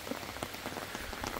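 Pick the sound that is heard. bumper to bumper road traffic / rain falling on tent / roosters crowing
rain falling on tent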